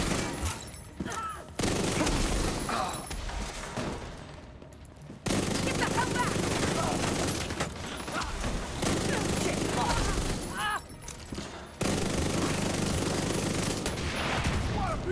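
Heavy gunfire from a first-person shooter game fills most of the stretch, dense continuous volleys broken by a few brief pauses, loud and close.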